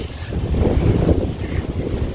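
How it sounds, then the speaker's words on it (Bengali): Strong wind buffets the microphone outdoors in a Bangladeshi village, a steady loud rumbling roar that swells and eases slightly throughout, with no voices. "অনেক সুন্দর বাতাস"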